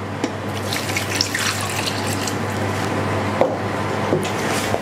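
Water pours steadily into a bowl while sourdough bread dough is being made in a bakery, an even splashing trickle with a few light knocks.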